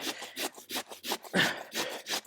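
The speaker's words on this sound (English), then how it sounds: "I am going to saw this here with this rather blunt saw." A fairly blunt hand saw cuts through wood outdoors at a garden room base build, giving steady rasping back-and-forth strokes, about nine in a little over two seconds, close and clear.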